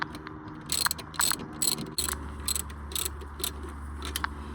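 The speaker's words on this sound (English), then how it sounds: "And then I'm gonna go ahead and tighten these ones up." A hand ratchet clicks in quick bursts while tightening bolts on the alternator of a 2010-2014 Subaru Outback, close and distinct, with short pauses between strokes.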